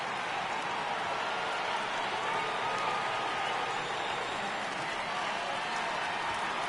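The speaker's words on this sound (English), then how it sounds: "Crowd gets up for the 3-2." A baseball crowd at a Grizzlies ballpark cheers on a 3-2 count, a steady wash of clapping and roaring voices that holds evenly throughout.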